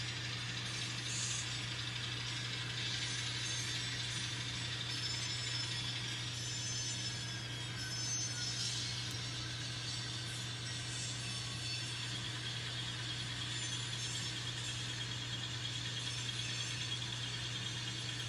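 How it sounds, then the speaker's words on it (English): An N scale model train runs on a layout of concrete-hauling engines. Its motor gives a steady, faint electric hum with a few thin squeals and mechanical rattles, and no one speaks. "So the scale train sits there and spins his wheel, and the other engines are going."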